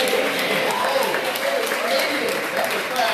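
Clapping from a meeting audience comes through as a steady, dense patter of many hands, close and fairly loud for the whole stretch, with crowd voices mixed in under it.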